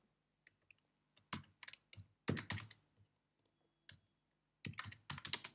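Rapid bursts of keystrokes on a computer keyboard, typed in short clusters with brief pauses between them, close and clear with no talking.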